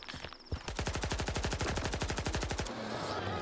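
Rapid automatic gunfire from a rifle in STALKER 2, a steady burst of about twenty evenly spaced shots lasting around two seconds, loud and close, followed by a fading ring.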